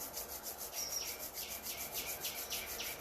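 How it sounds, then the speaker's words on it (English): Two palms rubbed gently together during a yoga breathing session, a soft steady swishing friction repeated in quick even strokes, close and alone with no talking. "now gently rub your palms"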